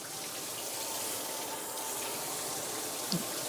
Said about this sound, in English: you have to kind of leave the water running to get the dogs used to the sound